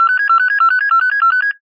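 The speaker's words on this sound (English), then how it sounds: "Telephone at command center begins ringing." An electronic telephone ringtone at a command center trills in rapid repeated pulses, loud and close, for under two seconds before stopping.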